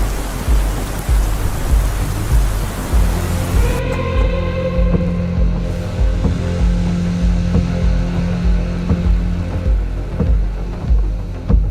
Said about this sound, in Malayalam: നല്ല ഇടിയും മിന്നലും ഉണ്ട്